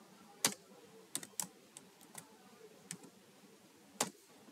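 Sparse, quiet keystrokes on a computer keyboard while writing code for a stack-based array program, a few isolated clicks with one small cluster, no talking.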